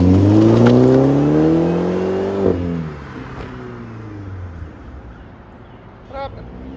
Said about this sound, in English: Let's see that turbo spool up.